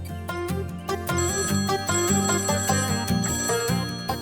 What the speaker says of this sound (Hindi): अरे नैना, फोन बज रहा है।